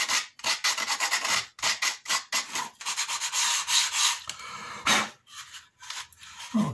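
Repeated rasping strokes of sandpaper on wood, close and loud, in uneven back-and-forth bursts with short gaps between them.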